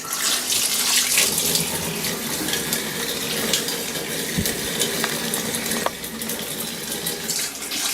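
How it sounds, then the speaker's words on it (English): Warm water is swilled and poured out of the paint pot of a Kirby Avalir 2 portable paint sprayer, a steady close splashing and running stream that lasts throughout with small clinks. "Use warm water, just swill it out, and what you'll see is as you pour it out, you can see it squirting out the end."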